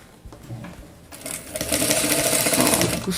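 A sewing machine stitches through a denim bathroom set with quilted batting, starting with a few slow clicks and then settling into a fast, steady whirring run close by.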